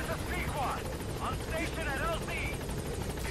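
A helicopter in Metal Gear Solid V drones steadily in the background while chirping, warbling sounds and speech-like voices sit on top.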